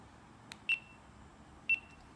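A GoPro Hero 10 Black on self-timer gives two short, crisp electronic beeps about a second apart, close and clear over a quiet background.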